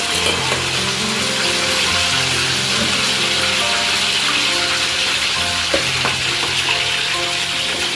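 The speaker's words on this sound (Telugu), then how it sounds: "ఇలా ముక్కలు వేసేసుకొని ఫ్రై చేసుకోవాలి" Chicken pieces frying in groundnut oil for a chicken pickle give off a loud, steady, continuous sizzle close by, with no talking over it.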